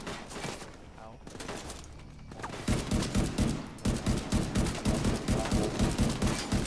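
Rapid bursts of gunfire in The Division 2, a quieter stretch giving way to dense, loud repeated shots that continue steadily to the end, with game noise and some voices mixed underneath.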